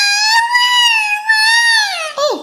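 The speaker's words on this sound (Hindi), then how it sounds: "ये किसके रोने की आवाज आ रही है?" A cartoon character cries in a long, high, wavering wail with strong tonal pitch, near and loud, breaking briefly midway and ending in a falling sob.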